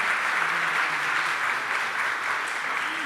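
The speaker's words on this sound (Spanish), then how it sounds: "les brindamos un fuerte aplauso a nuestros diputados y panelistas por este" An audience at an education forum gives steady applause for legislators and panelists, a moderate, even wash of clapping throughout.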